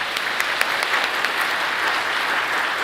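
A crowd gives a steady round of applause to welcome a Catholic priest at a Legio Mariae officers' retreat in Los Angeles. The dense clapping sounds close and continuous from start to finish.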